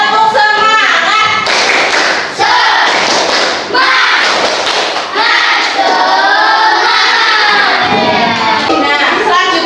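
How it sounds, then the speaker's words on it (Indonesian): A classroom of students performs a rhythmic spirit clap (tepuk semangat), loud patterned bursts of clapping and thumping broken by short pauses, mixed with chanted group voices. "coba kita tepuk semangat"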